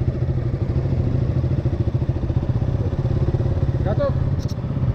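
A motorcycle idles with a steady, loud, close throb at a category A riding test held in heavy rain, with a brief voice near the end.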